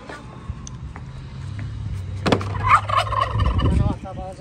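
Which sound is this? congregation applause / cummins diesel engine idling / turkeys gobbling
turkeys gobbling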